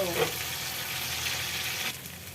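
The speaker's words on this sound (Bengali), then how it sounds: "একেই বলে মাছের তেলে মাছ ভাজা" Fish frying in the oil rendered out of the fish itself, a loud, steady, close sizzle running throughout with a brief burst of crackling near the start.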